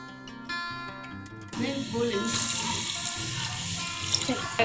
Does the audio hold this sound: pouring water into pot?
yes